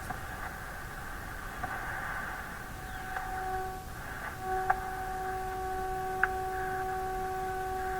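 A steady electronic tone from a signal generator, heard through a Philco 91A radio during AVC circuit testing, with a second lower tone joining midway, over radio hiss and faint ticks, with no talking.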